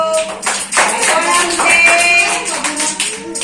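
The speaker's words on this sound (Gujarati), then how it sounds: "ચલો તાળી પાડો." Children clap their hands in a classroom counting game with fish, bursts of quick sharp claps spread across a few seconds, close by and fairly loud, with some voices mixed in.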